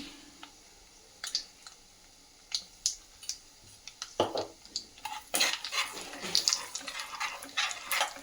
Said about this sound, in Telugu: బాగా చూసారు కదా, ఆవాలు చిటపటాడుతున్నాయి.